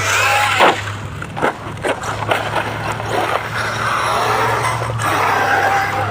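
A Mojave RC car drives toward a ramp with a steady buzzing motor, broken by several sharp bursts and skids as it launches and lands, heard fairly close with no speech.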